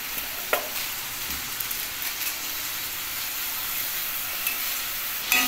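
Potatoes fry in a pan for egg dhoka, giving a steady close sizzle with soft hiss and occasional crackles and stirring clicks, no voices.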